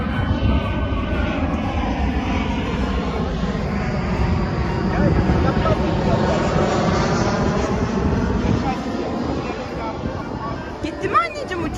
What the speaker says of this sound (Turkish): Bak bak Elif tekrar kocaman uçak geliyor bak